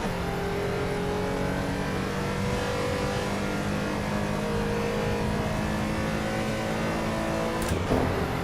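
A Porsche 911 engine drones in Assetto Corsa EVO, a sustained loud harmonic whine holding steady under load, ending with a brief sharp click near the end.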